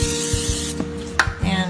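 Short hiss of cooking spray sprayed onto an open corn dog maker in a kitchen, a brief airy spurt followed by a couple of light clicks and taps from the appliance.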